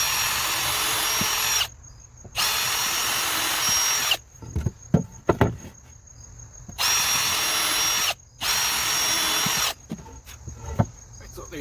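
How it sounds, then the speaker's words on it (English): A power drill bores pilot holes in wood for a fish tank stand, with two long, loud whirring bursts, each followed by short clunks and handling noises between runs. "So the first thing we're going to do is drill pilot holes."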